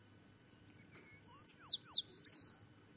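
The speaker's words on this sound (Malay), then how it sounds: "Okey, bunyi apa? Burung. Burung apa? Burung murai." A songbird, an oriental magpie-robin, sings a quick run of clear, varied whistled notes, close and bright against a quiet background.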